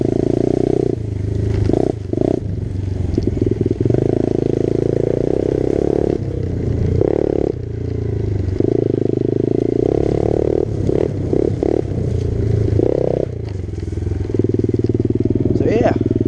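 A 17-year-old Yamaha motorcycle engine idles loudly and close with a rough, steady low rumble and mechanical clatter, dipping and surging at intervals as the throttle shifts, while someone talks over it.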